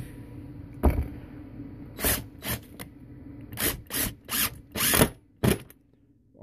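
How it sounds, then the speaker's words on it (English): A power drill whirs in a series of short bursts, several quick pulses with pauses between, close and fairly loud, no talking. "oh my god, I love this drill so far."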